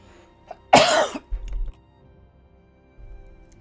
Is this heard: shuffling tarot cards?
no